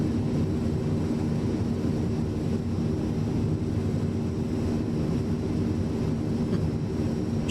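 Transall C-160 military transport aircraft in a flight video game, a steady, loud low engine and propeller drone that holds constant throughout with no talking.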